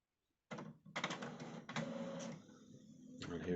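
An HP Envy 5546 Wi-Fi printer runs a print job, starting abruptly after a brief silence with loud mechanical whirring, clacking paper feed and carriage bursts, heard up close and alone.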